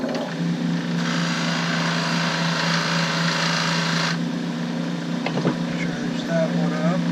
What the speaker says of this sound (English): Alright, so here we are at the buffing lathe.